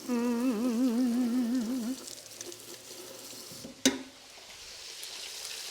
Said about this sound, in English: you cook them on high heat just for a couple of minutes each side. And I'm using canola oil for the shrimp